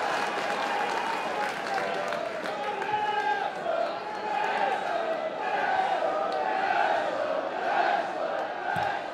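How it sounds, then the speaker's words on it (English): Football stadium crowd cheering during a Wrexham AFC versus Bromley match, a continuous roar of massed voices rising and falling at a distance, steady and dense throughout. "the crowd getting behind them."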